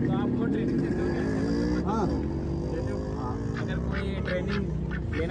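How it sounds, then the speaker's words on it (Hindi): A duck at the Pushkar fair quacks in a few short, nasal bursts over constant crowd bustle and engine drone, with people talking nearby. "अंकल जी के साथ में जो बतख है"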